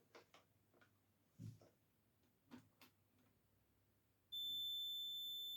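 A multimeter continuity tester gives a steady, continuous beep while checking a wire in a lighting circuit, starting after a few faint ticks and clicks and holding to the end.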